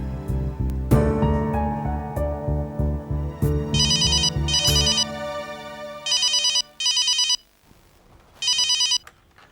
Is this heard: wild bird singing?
no